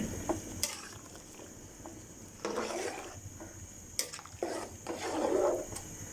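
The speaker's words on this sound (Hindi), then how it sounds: "ये अब इसको हल्के हाथों से हम मिक्स कर लेंगे" Rice being gently stirred into boiling vegetable water in a pot, with soft scraping and watery swishes in a few separate strokes, close by with no talk.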